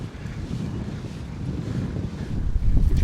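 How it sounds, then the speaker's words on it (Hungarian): Strong wind gusting across the microphone on a riverside cycle path along the Danube in Austria, a steady low roaring rumble that swells louder near the end, with no talk. "ott elég erős szél fúj, nem mintha itt nem fújna"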